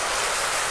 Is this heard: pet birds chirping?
no